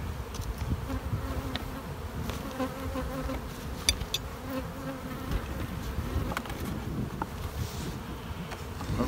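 Honeybees drone continuously around a hive of stacked brood chambers, a dense, close buzz with occasional louder passes near the microphone and no talking.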